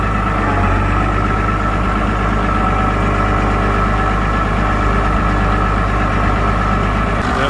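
A Farmall Super C tractor engine idles close by, a loud, steady low rumble with an even throbbing pulse that runs on without change, no talking.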